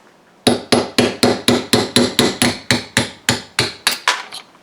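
A hammer strikes a Starrett 3/8 drive pin punch to drive out a pin, about twelve sharp metallic blows in a steady rhythm, each with a brief ringing decay, loud and close with no talk.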